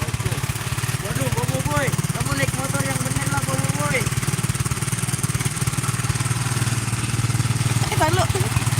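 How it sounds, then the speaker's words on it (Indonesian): A motorcycle ridden by Boboiboy in an ondel-ondel street drama runs with a steady, loud, close engine rumble, and voices talk over it through the whole stretch. "Kamu naik motor yang bener lah, Boboiboy."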